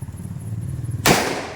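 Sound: firecracker bursting

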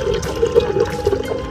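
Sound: motor pumping water into goldfish and turtle tank

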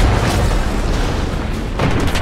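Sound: tank destroyed in an explosion in a video game

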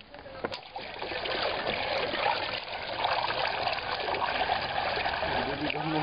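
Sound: water draining through lokta paper-making screen

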